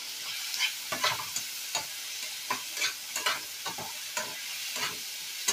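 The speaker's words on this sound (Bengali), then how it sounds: "আবার একটু নাড়াচাড়া করে নেব" Tomato stirred in a pan with turmeric and salt, a spoon scraping in irregular strokes over a soft steady sizzle, close and alone with no talk.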